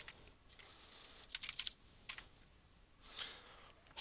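Faint, sparse keystrokes on a computer keyboard come in short bursts and single taps while commands are typed into the Windows command prompt, with quiet pauses in between.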